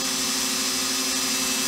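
Steady, loud grinding whine from a power tool smoothing down a seized Simson moped piston, constant in pitch for under two seconds with no talk.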